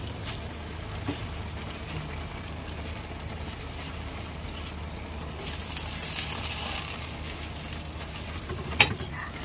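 Sweet potato leaves and bitter gourd fry in a pan with a continuous soft sizzle and occasional stirring scrapes, the hiss swelling brighter partway through, no talking.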